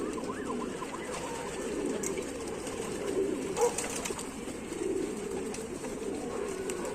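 Domestic pigeons coo softly from a rooftop loft in Tanta, Egypt, a low steady murmur lasting throughout with faint chirps and a distant siren-like tone drifting over it; no one speaks.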